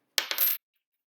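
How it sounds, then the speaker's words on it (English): Coins are pushed through a slit cut in cardboard and drop with a quick metallic jingle, a brief clatter of a couple of rattling impacts lasting under half a second, close and alone in silence. "You can practice putting coins through there."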